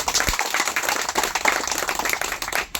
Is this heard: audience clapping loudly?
yes